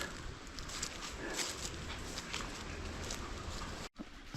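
Dogs move about at a puddle in a forest, making a dense, continuous rustling and splashing close by, with a brief drop-out near the end.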